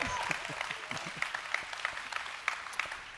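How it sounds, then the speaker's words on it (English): Audience applause for a panel at a customer success talk, a moderate patter of clapping from a seated crowd with a few sharper individual claps standing out, steady for a few seconds. "A round of applause for our panel."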